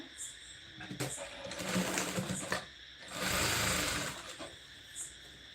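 A sewing machine stitches a 34-size blouse in two sustained whirring runs separated by pauses, close and clear, while someone talks softly in between.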